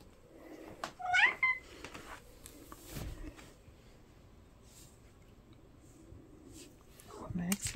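Pet cats, a tabby and a tuxedo, meow for treats during trick training: a few short, close meows near the start and another at the end, with a voice talking between them.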